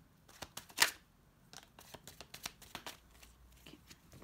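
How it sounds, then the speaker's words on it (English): Playing cards are shuffled close up in a quick series of riffling, papery flicks and taps, with one louder snap near the start. "Okay, last shuffle."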